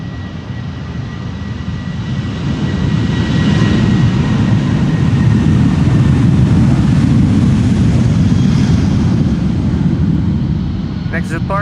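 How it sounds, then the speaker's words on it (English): KLM Boeing 737 jet taking off from Schiphol's Polderbaan runway 36L, a loud, steady engine roar that swells and holds across the whole stretch with broadband rumble, a voice faintly audible over it. "KLM flight 1753 to Hamburg. It's a 737"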